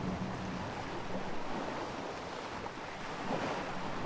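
Waves wash onto a beach in Arma 3, a steady broad surf roar with wind noise mixed in, continuous and fairly close.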